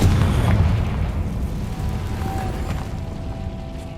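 A Confringo fire spell bursts in the video game Hogwarts Legacy, a loud, deep boom that hits at once and then rolls off into a long rumbling decay.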